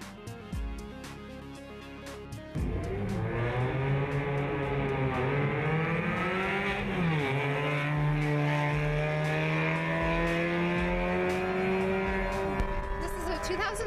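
A stripped 2003 Mini Cooper S race car with a WRC-spec roll cage at the Pikes Peak hill climb: after quiet rumbling, the engine roars up loud and close, revving through gears into a sustained high drone.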